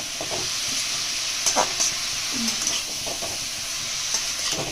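Chilli powder and cumin sautéing in a pan with turmeric, a soft continuous sizzle and hiss with a few light stirring clicks, fairly quiet and steady throughout.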